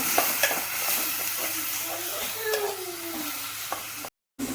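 Onion, tomato and ginger-garlic paste sauté in a pan for a prawn curry, a steady close sizzle and fry under occasional scraping stirs, with a brief dropout near the end.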